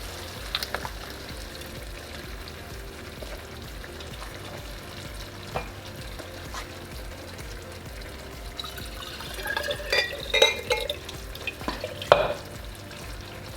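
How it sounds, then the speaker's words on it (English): Steady sizzling and frying in a pot as Trader Joe's creamy pumpkin sauce is poured in, with scattered clinks of a utensil growing busier toward the end. "Now I'm adding this sauce."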